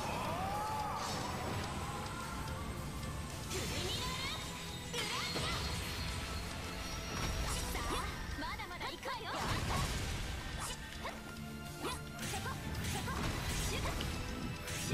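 Combat in the Tokyo Xanadu eX+ video game as a monster's legs are smashed: repeated loud crashes, whooshes and impact thwacks with game effects, with bursts of action across the stretch.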